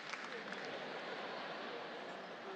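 Steady, dense clapping from an audience at a university campus event in Nilai, Negeri Sembilan, continuous and fairly even across the whole stretch with no voices standing out.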